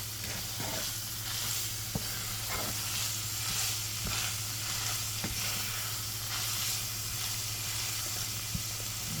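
Minced beef sizzles in a pot for a one-pot spaghetti dish, a soft, even hiss with a low steady hum beneath and a few sharp utensil taps spaced through it, no speech.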